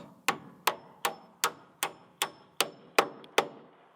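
Hammer nailing joist hangers onto a porch framing, nine sharp evenly spaced metallic blows about every 0.4 seconds, close and fairly loud, with no talk.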